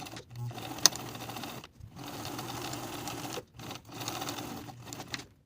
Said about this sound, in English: Edge stitching that lining to the seam allowance from dot to dot.